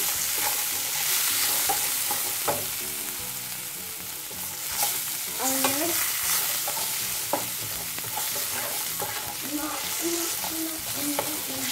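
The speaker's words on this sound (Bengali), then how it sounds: "খুব বেশি একটা ভাজবো না, খুবই সামান্য ভাজবো, জাস্ট একটু সটে করে নিতে হবে।" Chopped onions with garlic paste sauté in a pan for egg chilli, giving a steady, close sizzle broken by scraping stirs of a spoon against the pan, with no one speaking.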